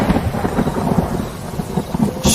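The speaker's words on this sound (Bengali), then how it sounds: "সেই সঙ্গে ভেসে আসছে মৃদু বাজ পড়ার শব্দ।" Heavy rain pouring down with a low, rolling rumble of thunder throughout, loud and close, with no voices.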